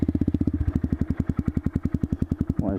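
A Honda MSX Grom motorcycle idles after starting to warm up, its single-cylinder engine thumping in a rapid, even, close chugging pulse that stays loud and steady.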